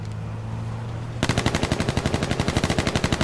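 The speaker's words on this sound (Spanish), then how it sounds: "Que me disparan" Gunfire in H1Z1 on PS4: after a steady low background hum, a loud, rapid automatic burst starts and keeps going as evenly spaced sharp shots to the end, with no talking over it.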